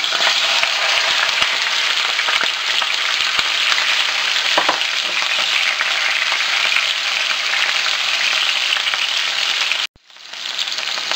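Pork slices for adobo sizzle and fry steadily in a hot pan, a loud continuous crackle that runs without pause and cuts off abruptly near the end before faintly resuming.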